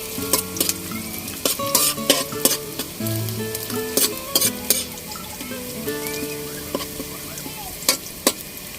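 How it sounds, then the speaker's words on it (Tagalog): Pork and garlic sizzle loudly in a pan for adobo with string beans, with steady frying under repeated clinks and scrapes of a utensil stirring against the pan. "Sunod natin ang bawang. Lutuin na natin ang ating pork."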